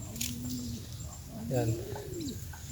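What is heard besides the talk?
pigeons cooing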